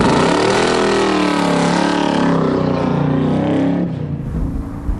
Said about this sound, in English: you hear that at Bathurst when you see maybe 40 cars with 600 horsepower all on the gas together going up the mountain for the start